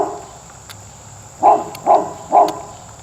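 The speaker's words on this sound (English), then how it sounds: "Pardon my dog." A dog at a camping stove setup barks three times in quick succession, fairly close and clear, over a quiet outdoor background with faint insect chirping.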